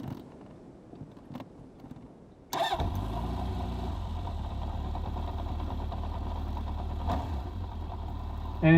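A 1980s Honda CB750F Super Sport motorcycle turns over after a few faint clicks and fires up, then settles into a loud, steady, close-up idle with a deep, even rumble.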